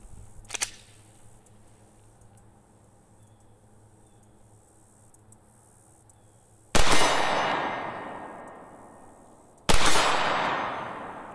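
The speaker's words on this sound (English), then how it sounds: "I'm gonna take 2 shots with the HK and then immediately switch to the SIG" Two loud, sharp pistol shots from an HK P30L handgun, a few seconds apart, each with a long decaying echo, following a faint click near the start.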